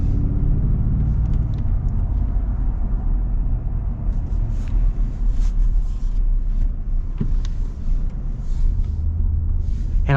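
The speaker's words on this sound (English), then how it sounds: "I like the little rumble you get from the V8" A Ford 2024 Godzilla gas V8 in a heavy-duty pickup truck rumbles low and steady for about ten seconds, a continuous close engine drone with some wind buffeting and no talk.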